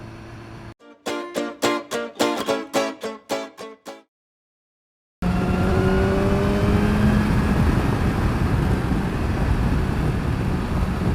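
BMW S1000XR motorcycle engine blipped in a series of sharp revs, then a short silence, followed by a loud sustained roar with rising engine tones close by.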